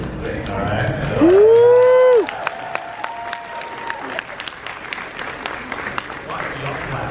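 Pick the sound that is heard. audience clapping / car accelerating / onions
audience clapping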